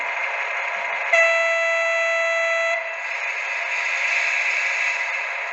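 The horn of an O-scale Modelbex BB 63593 model diesel locomotive gives one electronic blast of about a second and a half. It rides over a steady motor-like drone that carries on alone after the horn stops.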